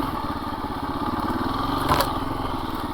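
A KTM 350 EXC-F four-stroke dirt bike engine under way in first gear, a steady close, rapid thumping drone with a slight swell in the middle.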